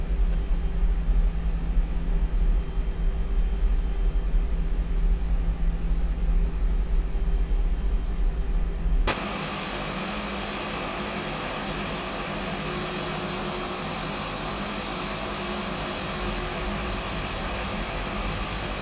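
Airbus A320 jet engines on a takeoff roll in the X-Plane 11 simulator give a steady, loud rumbling roar, with a sudden shift midway to a brighter, broader hiss that continues evenly.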